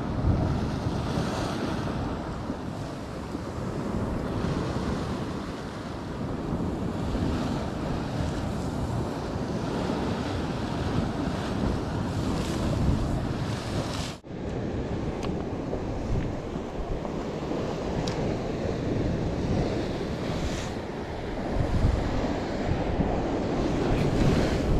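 Sea waves wash and surge steadily at a rocky fishing spot on the coast of Cartagena, with gusting wind buffeting the microphone throughout and a brief dip midway.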